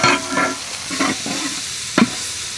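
Tomato frying with ginger and garlic paste in a pan for a chicken and potato curry, a close sizzle broken by a few scraping stirs and a sharp utensil knock.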